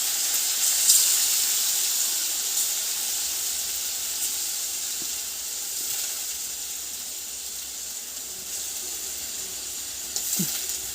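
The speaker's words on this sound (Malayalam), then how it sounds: "തിളച്ച എണ്ണയിലേക്ക് ഇട്ടുങ്ങാറ്റ് ചിക്കൻ നമുക്ക് ആദ്യം പൊരിച്ചെടുക്കാം കേട്ടോ." Chicken frying in boiling oil sends up a continuous, even hiss and sizzle, moderately loud and unbroken, with a faint clink or two near the end.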